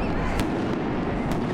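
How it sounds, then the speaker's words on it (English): Holiday fireworks at the Scrantastic Spectacular in Lackawanna County, a dense, continuous mix of booming bursts and sharp crackles, loud and steady throughout with no voices. "The boom and crackle of fireworks capped off a holiday tradition known as the Scrantastic Spectacular."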